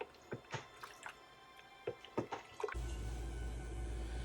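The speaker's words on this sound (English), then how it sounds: "Let's give them another stir." Several soft wet squelches and clicks of softened tomatoes being stirred in a pot for tomato sauce, followed by a steady low hum that takes over near the end.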